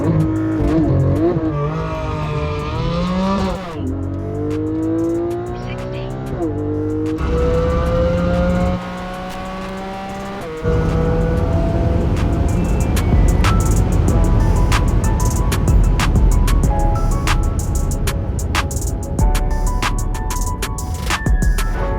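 A Tesla Model 3 and a Porsche 718 Cayman GT4 drag racing, the Porsche's engine revving loud and close with rising pitch through repeated gear shifts, then a sustained roaring high-speed run with wind and road noise.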